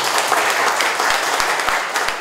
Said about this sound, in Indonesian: Tepuk tangan untuk SMK.